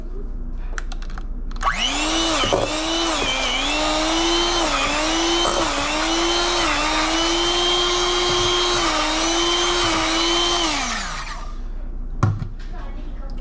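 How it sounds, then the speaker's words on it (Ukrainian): An electric hand mixer whirs loudly and steadily for about nine seconds, cleaning red caviar in warm salted water, its pitch wavering slightly as the load shifts, with brief clatter before and after. "Дивіться, міксер. І пробуємо."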